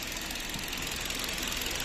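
A 2018 Kia Rio with a 1.4 engine and automatic gearbox idling with the hood open: a steady, even mechanical hum with a fine rapid ticking, close and moderately quiet, with no voices.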